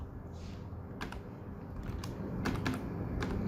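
Fingers tap on a computer keyboard in short, uneven clusters of soft clicks, close by against a quiet room hum.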